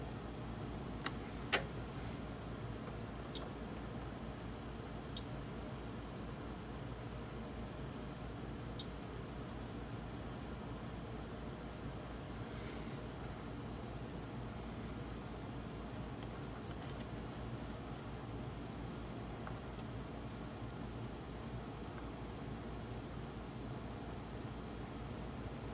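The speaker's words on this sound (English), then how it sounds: "I'm just feeding it some white noise from my computer over here" A steady, broadband white noise test signal from a computer played through an amplifier runs unbroken for the whole stretch, with a few faint clicks scattered near the start.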